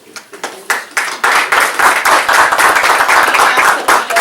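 Applause from an audience during a House committee hearing, a burst of many hands clapping that builds quickly and holds steady, dense and fairly close, without talk over it.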